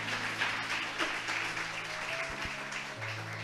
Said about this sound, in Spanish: Alguien alaba a Dios con un fuerte aplauso por este mensaje